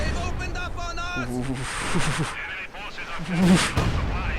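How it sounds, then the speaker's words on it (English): Artillery barrage from a real-time strategy game shelling a minefield near anti-tank guns, heard as rumbling blasts and bursts of fire mixed with game sounds under continuous talk from a match commentator. "here comes the barrage. Barrage is going to try and clear out the mines and do as much damage as he can"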